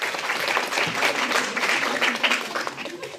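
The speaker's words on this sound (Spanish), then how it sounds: "Sí, dale, aplauso." Loud, dense audience applause after a talk, a continuous close roar of clapping from a crowd, with a few voices faintly mixed in.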